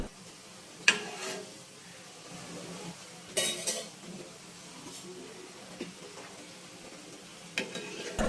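Taal bora (palm fritters) fry quietly in oil under a soft, steady sizzle, with several sharp metallic clinks and scrapes of a spoon against the pan standing out.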